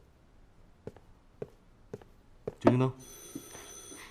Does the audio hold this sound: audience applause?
no